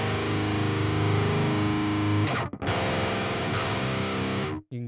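Heavily distorted electric guitar through the Dave Davidson AmpSuite with its mid-cut engaged, chugging loud and dense with a brief gap near the middle and a short drop near the end, played alone without talk.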